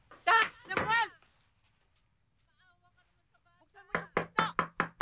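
A closed door pounded on hard during a tense argument in a 2005 Filipino film: a quick double bang, a pause, then a rapid string of loud heavy knocks, with shouting voices alongside.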